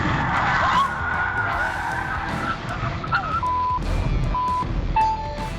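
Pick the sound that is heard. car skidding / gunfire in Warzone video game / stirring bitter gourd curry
car skidding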